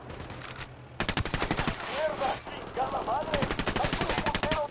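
Gunfire in the video game Ghost Recon Wildlands, rapid automatic bursts cracking close and loud in quick rhythmic strings, with a voice speaking briefly between volleys.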